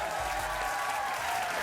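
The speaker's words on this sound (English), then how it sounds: "can I please ask you to give a big round of applause to Mr." A studio audience on a television talk show gives a round of applause to a departing host, a dense steady wash of clapping and crowd noise at fairly low level, with no speech.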